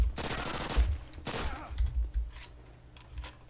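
Gunfire in the original Call of Duty campaign, bursts of rapid automatic shots with heavy low thumps, loud and close, then trailing off into scattered quieter shots.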